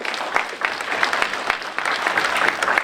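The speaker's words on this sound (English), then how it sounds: "A big round of applause for the" A crowd at an entrepreneurs award event applauds the organizers with dense, continuous clapping that holds at steady loudness throughout.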